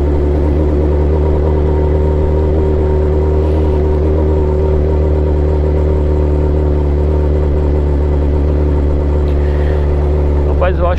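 Motorcycle riding on a road, its engine droning at a steady mid pitch close to the mic along with constant wind rumble, held level for the whole stretch.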